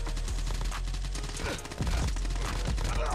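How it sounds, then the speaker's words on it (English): Dense rapid gunfire from COD Mobile Battle Royale gameplay, continuous bursts of shots with game sound effects filling the whole stretch, loud and steady without speech. "Oh, shots fired. Shots fired."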